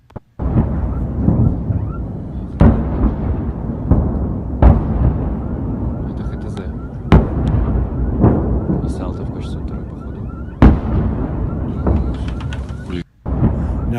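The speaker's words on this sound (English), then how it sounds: "Artillery barrage still going on." An ongoing artillery barrage with rocket launcher fire: heavy booms land every second or two, each followed by a rolling rumble, with a sustained low roar in between and faint voices underneath.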